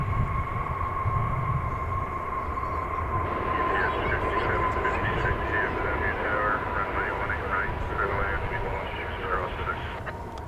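A jet airliner arrives from Seoul at DFW Airport with a sustained engine roar and a steady high whine. A voice talks over it through the middle, and the noise fades slightly at the end.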